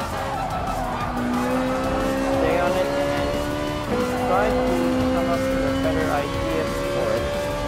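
A Group 4 front-wheel-drive race car in Gran Turismo Sport, running on racing tires, holds a steady engine tone with rising and falling pitch and repeated tire squeals through corners, while a voice talks over it.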